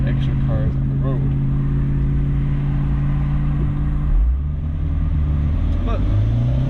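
Steady road rumble and wind roar inside a Fiat 124 convertible driving with the top and windows down, a continuous loud low drone with passing traffic and a voice talking over it.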